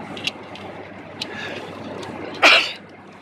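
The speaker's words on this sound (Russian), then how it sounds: "Ой, я чихнул." A man sneezes once, a sudden sharp burst close by, after a few faint clicks in a quiet room.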